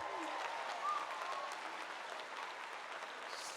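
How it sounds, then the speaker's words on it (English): A graduating class at the Hampshire College 2019 commencement is applauded by the crowd, with faint, distant, sustained clapping that washes over the whole stretch without a break. "Round of applause for you all."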